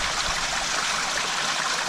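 Water rushes steadily through the filter fabric of a shower-tower filter on a 25,000-gallon koi exhibit, a loud, even torrent that continues unbroken and close by with no voices.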